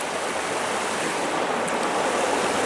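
Water pours onto a small aquatic stonefly outdoors, a steady loud broadband splashing and rushing wash filling the whole span without a break, close to the microphone.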